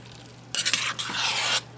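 Black bean beef chili stirred in a crockpot, a close scraping, sloshing stir that starts abruptly after a quiet half second and runs about a second with a brief dip midway, over a steady low hum.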